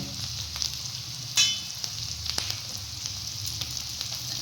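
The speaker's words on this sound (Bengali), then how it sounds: "আমি হচ্ছে মশলাটা প্রায় একটু ভেজে নিচ্ছি হালকা করে।" Spice masala and ginger fry in a pan for vegetable chop, giving a constant close sizzle with light scraping taps of stirring and one sharper hissing burst.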